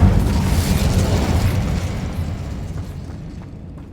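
An Incendio fire spell cast in Hogwarts Legacy bursts out as a loud, booming whoosh of flame with a deep rumble that slowly fades over several seconds.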